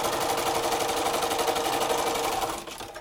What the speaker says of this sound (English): we're gonna sew a quarter of an inch on either side of the line.